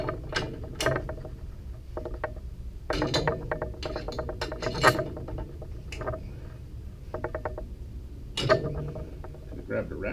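Ratchet wrench cranking a body mount removal tool on a 1966 Ford F100 pickup, heard as bursts of rapid metallic clicking in several separate runs, close up, with some talk mixed in.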